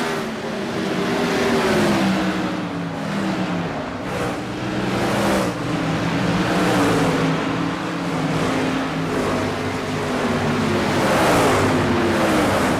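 Sprint car engines roaring continuously in an iRacing sprint car race at Five Flags Speedway, a dense, loud drone of several cars with pulsing surges as they sweep past, with no talking.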